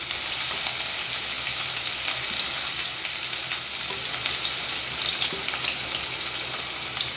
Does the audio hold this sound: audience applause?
no